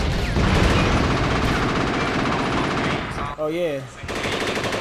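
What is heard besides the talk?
gunfire in the video game Rise to Honor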